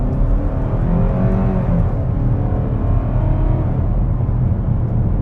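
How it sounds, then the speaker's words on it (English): A naturally aspirated Hyundai Tucson engine pulls away from a stop, a loud, steady low drone from inside the cabin that holds for several seconds with no talking. "I want to check out the acceleration from the stop."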